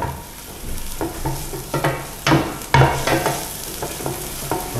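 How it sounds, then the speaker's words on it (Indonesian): Onion sautéing in a pan for brenebon red bean beef soup, with a steady sizzle under repeated stirring scrapes that come in irregular bursts, close and moderately loud, with no talk. "kita tumis dulu ya"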